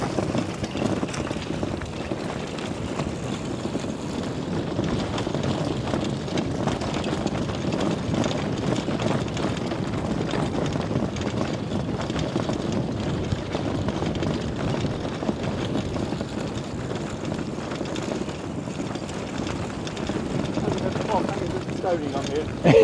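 An aircraft climbs overhead with a steady, broad engine drone that holds at an even level throughout, and voices can be heard talking faintly beneath it.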